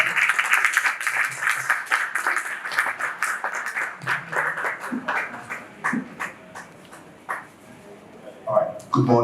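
An audience claps to welcome a doctor to the stage at a critical care nursing event in a teaching hospital, giving a steady round of applause with a voice briefly heard near the end.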